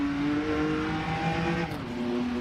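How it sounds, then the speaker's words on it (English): Several race car engines in the Rennsport racing sim whine and drone together at steady high revs, a continuous layered buzz with shifting pitch, no voices. "you can hear all the other cars, which is super annoying"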